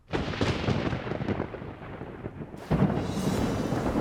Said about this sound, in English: Well, you can hear the thunder out there.